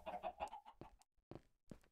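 Several short clucks from Minecraft chickens come in quick bursts, then sparse clipped calls separated by brief silences, with a faint high chirp at the very end.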